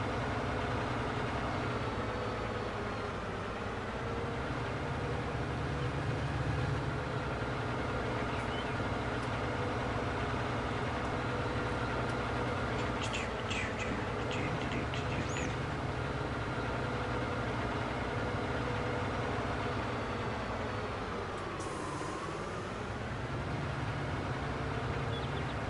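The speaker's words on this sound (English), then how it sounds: "it's a lot easier with the telehandler than it would be with the skid steer to move bales" A telehandler's diesel engine runs steadily on a farm while moving hay bales, a constant low drone that rises and falls slightly in revs throughout.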